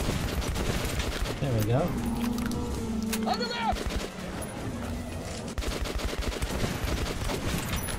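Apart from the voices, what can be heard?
shotgun firing in video game Metro Last Light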